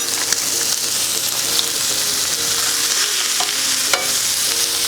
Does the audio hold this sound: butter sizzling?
yes